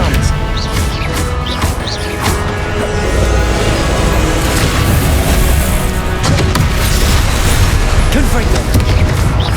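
Confringo blasting spells exploding in a Hogwarts Legacy battle: loud, dense booms and crashes pile up continuously with magical whooshes, forming a constant roar of combat effects.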